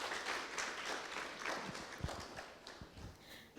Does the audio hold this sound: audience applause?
yes